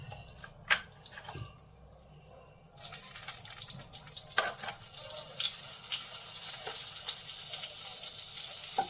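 Butter melting in a pan with refined oil, soft crackling sizzle that swells after a few scattered drips and taps, staying quiet and steady to the end.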